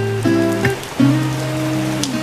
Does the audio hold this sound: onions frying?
no